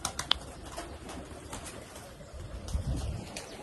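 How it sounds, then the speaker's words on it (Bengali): Pigeons in a rooftop cage coo softly at a distance, with a sharp click and a brief flutter in the background and a low rumble near the end. "এই হচ্ছে পায়রা আমার।"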